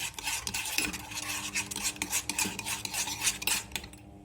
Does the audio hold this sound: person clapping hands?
no